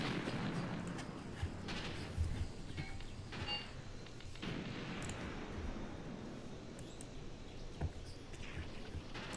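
Artillery fire in the Graviteam Tactics war game during the Operation Moduler campaign, a dense, continuous rumble of distant shelling and scattered gunfire with occasional sharper bursts throughout.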